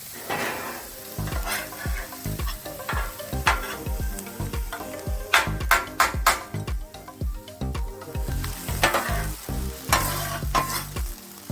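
Thin-sliced ribeye and onions sizzle on a grill for Philly cheesesteaks, a loud steady frying hiss broken by repeated metal spatula scrapes and taps, up close with no talking.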